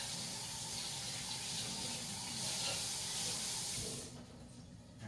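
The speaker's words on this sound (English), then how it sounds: "Let me kind of wash my hands a little bit." A kitchen tap running while hands are washed, a loud steady rush of water that splashes and shifts, then cuts back to a quieter trickle near the end, with no talking.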